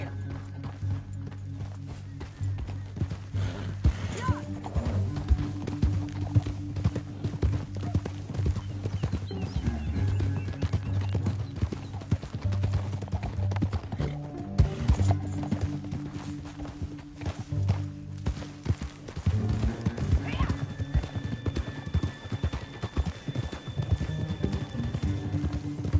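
Horse hooves clip-clop and gallop across the ground in the video game Red Dead Redemption 2, a rhythmic, steady pounding with occasional whinnies, accompanied by game music and ambient background.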